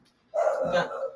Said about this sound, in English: excuse my little dog in the background who's trying to sound like a big dog